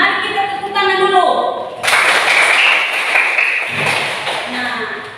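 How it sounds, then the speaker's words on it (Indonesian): Elementary schoolchildren in a fourth-grade classroom burst into loud group hand clapping that follows an adult's voice and continues as a dense, sustained patter for a few seconds before fading under more talk. "mari kita tepuk tangan dulu"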